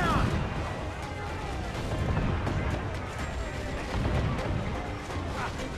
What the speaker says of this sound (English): Uncork the cannons, lad!